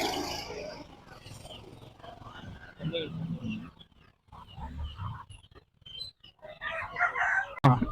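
Sonali country chickens at a rural weekly poultry market in Akkirampura, with scattered clucks and crowing calls rising over a busy crowd, people talking nearby throughout, ending in a louder burst of squawking.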